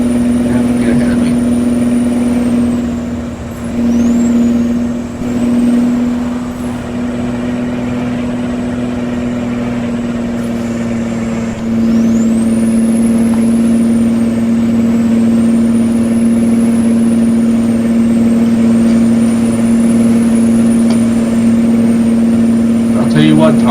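A steady truck engine drones in American Truck Simulator, its low hum continuous and fairly loud, with pitch shifts as the rig changes speed and someone talking over it.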